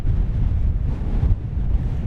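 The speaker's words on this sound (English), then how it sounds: "it's being tossed around out there because it's actually pretty windy" Heavy wind buffeting a microphone, a low rumbling roar that gusts unevenly, with no voices.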